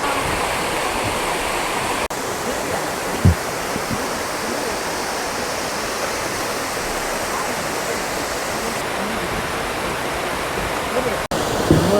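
Jeolgu Falls on Juwangsan mountain, a two-tier waterfall running with modest flow in autumn, gives a steady broadband rush of falling water, constant and fairly loud, filling the whole stretch without any break.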